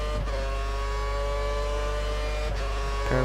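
Formula 1 cars racing in F1 2013 at Malaysia during an overtake, a loud sustained high engine whine from close by with a brief shift in pitch near the end.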